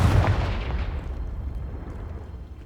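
A Confringo blasting spell explodes in Hogwarts Legacy: a single loud, deep boom with a heavy low rumble that fades slowly over a couple of seconds, with no voices.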